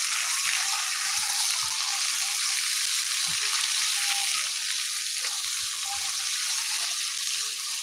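Pointed gourd (potol) fries in a pan with green chilli and nigella seeds, a steady close hiss of sizzling oil with a few soft clinks, no voices.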